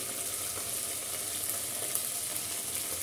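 Ginger paste sizzles steadily as it is fried in a pan over already-browned onions for a pumpkin and Malabar spinach curry, a dense continuous hiss without a break and no voices.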